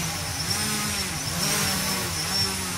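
Tricopter motors spin up under throttle, a sustained buzzing whine with shifting pitch that rises and falls slightly, close by and with no voices.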